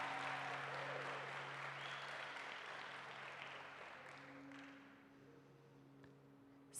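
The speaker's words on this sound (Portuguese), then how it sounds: "Você pode dar uma salva de palmas ao Senhor? Pode ser mais forte?" Church congregation applauding during a celebration service, a broad wash of clapping that starts loud and gradually thins and fades, with a steady low hum underneath.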